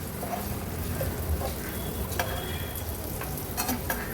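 Raw banana slices fry in a pan as they are turned one by one, giving a steady broadband sizzle with a few soft scrapes and taps from the utensil, close and continuous with no talking.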